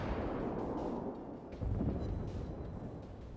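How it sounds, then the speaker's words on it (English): Secondary guns of tier 8 and tier 9 German battleships fire in a naval video game, a dense continuous barrage of booming shots with a heavier burst partway through, loud and close with no talk. "Look at this firepower, folks. There's tier 8 and tier 9 German battleship secondary."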